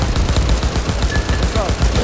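Rapid gunfire rattles in Cyberpunk 2077, a loud, close burst of shots repeating in a fast, even rhythm for a couple of seconds.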